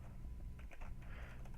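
A computer keyboard is typed on in a quick, close burst of light clicking keystrokes over a steady low hum, with no talking.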